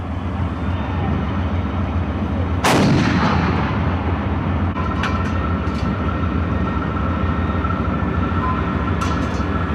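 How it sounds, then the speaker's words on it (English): A single booming shot from a tank main gun firing at stationary targets on a training range, a sharp blast followed by a long rumbling decay over steady engine noise, loud and fairly close. "The tank teams are qualifying by firing at stationary targets on the range."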